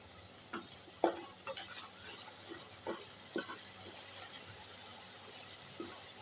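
Masala for potato kebabs frying quietly in a pan, faint low sizzle under scattered spoon scrapes and knocks, close but soft.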